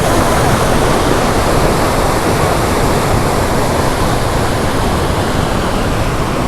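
Canal water gushes out of a pipe into a green-tinged pond, a steady, loud broadband rush like a small waterfall that holds unchanged throughout with no voices.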